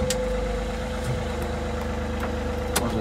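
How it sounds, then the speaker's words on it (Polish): A three-cylinder Kubota diesel engine in a 2021 GIANT GT 5048 compact telescopic loader idles steadily with a low, even chugging and a constant hum, close by, with a few faint clicks over it. "silnik jest 3-cylindrowa Kubota"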